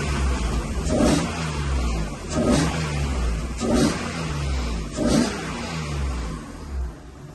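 A BMW E30 with a swapped S50B30 inline-six engine accelerates repeatedly, four rising revs in steady succession, each swelling and falling back, heard from inside the car without talking.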